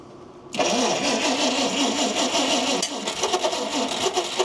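A 1953 Kaiser Manhattan's engine cranks and catches after a half-second of quiet, then runs loud and close at a steady rough idle with slight surges in pitch.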